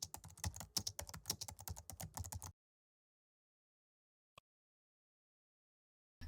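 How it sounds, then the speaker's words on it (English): Rapid keystrokes on a computer keyboard as a prompt is typed, a dense close burst of clicks lasting a couple of seconds, then near silence with one faint tap and a brief sound at the very end. "and then typing my prompt"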